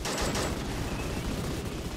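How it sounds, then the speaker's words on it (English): Mechanoids in the Rimworld video game shoot at a wall with a dense, continuous clatter of rapid gunfire that fills the whole moment, loud and unbroken, with no voices over it. "These ones are taking over by just shooting the wall."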